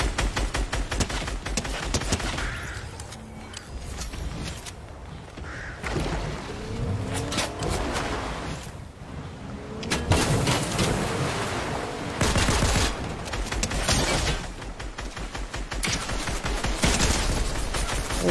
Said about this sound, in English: why are you shooting at me, Second?